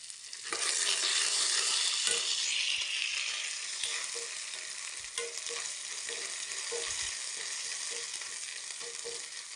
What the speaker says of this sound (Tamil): ஒரு டீஸ்பூன் கடலைப்பருப்பு ஒரு டீஸ்பூன் உளுத்தம் பருப்புங்க அதோடு சேர்த்து இன்னைக்கு காஞ்ச மிளகா கொஞ்சமாக கறிவேப்பிலைங்க